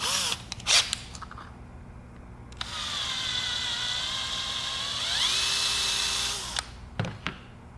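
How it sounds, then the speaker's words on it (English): A power drill whirs steadily for several seconds, its pitch rising as it enlarges a hole in a 3D-printed revolver part, with handling clicks and knocks before and after. "I need to drill that hole out a little bit bigger"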